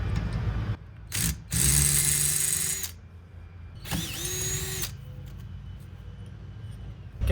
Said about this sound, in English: we're going to remove our sacrificial anode with our 5/16 socket